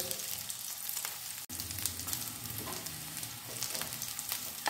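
Stuffed paneer being stir-fried in hot oil, a steady close sizzle with scraping stirs throughout and one brief sharp knock partway through.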